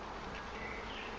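A steady, dense buzzing hum of a swarm of bees in a box, continuous and fairly close, with no pauses or voices.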